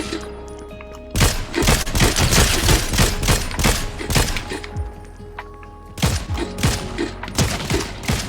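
Gunfire in a shooter video game played on a PC controller: rapid bursts of automatic shots, loud and close, with a brief lull before another volley of quick repeated shots.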